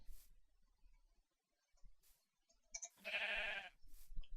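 A sheep bleats in Minecraft (Feed the Beast modpack), one loud, harmonic bleat lasting about half a second, preceded by quieter game clicks and ambience.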